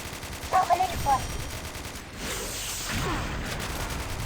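Rapid gunfire from shooting mummies in the online shooter game Xshot, a steady fusillade of shots under brief talk, moderately loud throughout.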